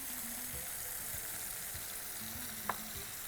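Chilli and coriander powder sizzling as they are sautéed in a pan with egg, a soft steady fry with faint stirring scrapes and one small clink.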